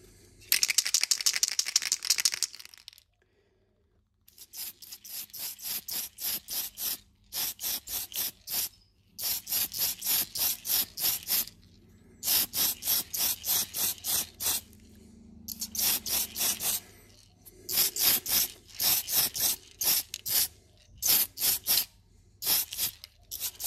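A spray paint can rattles hard, then hisses out paint on models in a series of short, evenly spaced bursts separated by brief pauses, close and loud with no voices.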